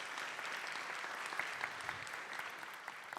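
Applause from a forum audience on women's policy, a steady, fairly faint patter of many hands clapping at some distance, continuous throughout.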